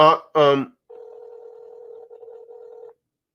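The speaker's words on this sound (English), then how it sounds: "I'm calling your phone right now." A steady telephone tone sounds for about two seconds with a brief break, clear and isolated, right after two short bursts of speech.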